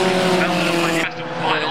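Formula Vee race cars roar past close by on a circuit straight toward a hill, a loud sustained engine drone that cuts off abruptly, with a commentator talking over it.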